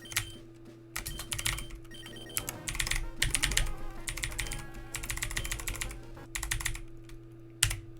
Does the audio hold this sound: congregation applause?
no